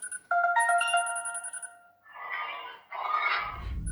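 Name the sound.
phone ringtone while calling the doctor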